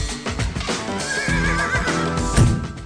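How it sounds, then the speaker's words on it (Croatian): A Lipizzaner horse whinnies with a wavering, drawn-out neigh at an exhibition of Lipizzaner mares and stallions in Bečej, Serbia, standing out clearly over dense background noise. "Na izložbi Lipicanera videli smo 62 kobile i pastuva."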